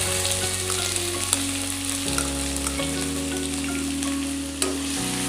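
Onions sautéing in hot oil with popped mustard seeds and chana dal for moong dal upma, a steady close sizzle with occasional stirring scrapes and pops.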